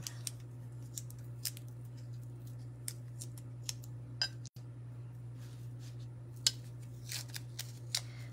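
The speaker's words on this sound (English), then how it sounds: "So I'm just taping these down, again with um, painter's tape." Painter's tape being torn and pressed down to hold earrings in place, giving sharp intermittent crackles and snips near the microphone over a steady low hum.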